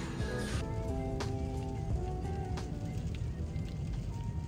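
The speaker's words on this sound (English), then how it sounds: "Another day of a little bit of rain." Light rain falls in a city, a constant soft patter of drops on surfaces with a few sharper taps, steady and close, with no voices.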